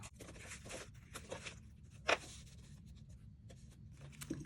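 Paper card components being cut apart for a papercraft project, heard as quiet close-up scratchy rustling and small snips with one sharper click midway, without any talk.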